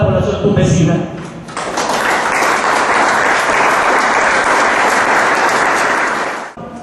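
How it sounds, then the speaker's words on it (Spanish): A crowd of townspeople in Tumbes, Peru, gives a strong, sustained round of applause, dense steady clapping filling several seconds before cutting off abruptly at the end. "un fuerte aplauso de toda la población tumbesina"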